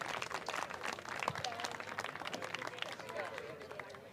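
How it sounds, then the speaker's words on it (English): Scattered clapping and cheering from a crowd at a high school boys soccer match, honoring the officials, mixed with chatter and crowd noise, fairly quiet and uneven throughout. "please join me in a round of applause for tonight's officials"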